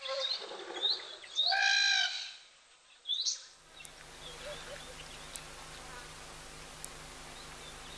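Starlings calling at a waterhole, a burst of bright, chattering chirps and whistles up close, then fading out to a quiet open-air hum with occasional faint ticks.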